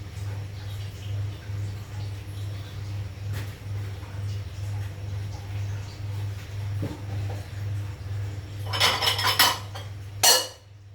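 A metal lid clanks sharply on a pot of potato and chicken soup heating toward a boil, two short bright rattles near the end over a steady low hum.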